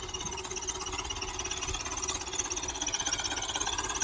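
A tractor runs a 66-blade rotavator tilling a field, a steady low engine drone with a rhythmic knocking pulse, moderately close and unbroken.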